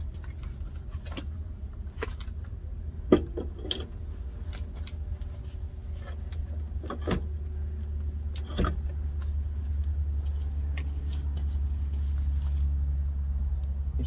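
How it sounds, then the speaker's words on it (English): A Yakima Full Swing bike rack slid into a 2-inch hitch receiver, giving a series of sharp metallic clicks and knocks spaced a second or two apart over a low, constant hum. "We're gonna go ahead and put it onto the receiver."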